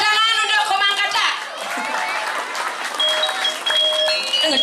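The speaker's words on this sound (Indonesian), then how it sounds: "Tepuk tangan untuk Komang Kaca" Applause and crowd noise break out for Komang Kaca at a Balinese comedy performance, loud at first and then fading under a speaking voice and background music.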